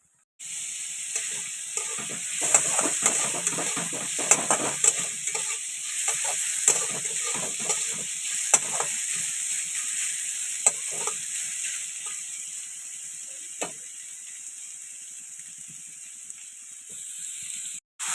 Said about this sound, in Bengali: তো তেলের মধ্যে এখন একটু গোটা দারচিনি লবঙ্গ ফোড়ন দিলাম